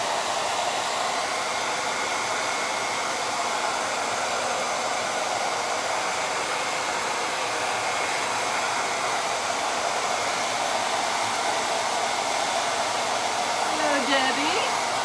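A hair dryer blows steadily at close range for about fifteen seconds to dry paint until tacky, a constant loud airy whoosh with no breaks.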